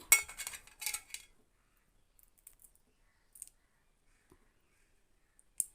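A hardened ball of cooked jaggery syrup, made for roasted gram dal laddu, is tapped to test it. A quick burst of hard, close clicks comes first, followed by a few faint, isolated taps with no talking.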